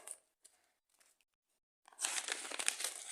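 Large crinkly package being opened during a candy unboxing, a few sparse rustles and crinkles at first, then after a pause a dense, loud burst of continuous crackling plastic crinkling close to the microphone.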